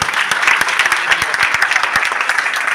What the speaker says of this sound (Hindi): एक बार मातृशक्ति के लिए जोरदार तालियां दी।